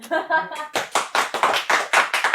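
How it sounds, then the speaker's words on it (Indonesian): Studio audience at an Indonesian comedy talk show bursting into applause after a short spoken line, rhythmic clapping swelling close and loud for about two seconds. "Ya, tepuk tangan."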